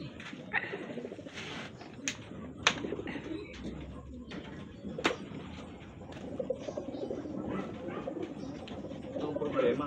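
Racing pigeons cooing during a pigeon race lap in Carmona, Cavite, soft repeated low coos with scattered sharper bird calls and wing or handling noises, with faint voices in the background.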